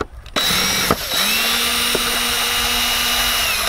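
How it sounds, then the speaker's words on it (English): An electric drill removing screws from an RV tail light assembly starts up and whirs steadily close by, pausing briefly a couple of times before running on at an even pitch. "We're going to try to get the drill motor in here."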